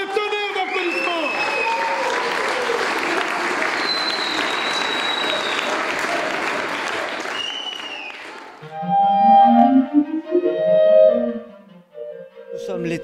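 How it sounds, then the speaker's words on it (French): Loud, sustained crowd applause fills a festival hall at Schaerbeek's communal house, greeting the Navet neighbourhood house for about eight seconds before dying away into scattered voices and other hall sounds. "Par la maison de quartier de Navet, s'il vous plaît, un tonnerre d'applaudissements."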